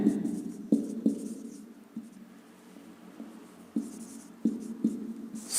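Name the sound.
writing on a board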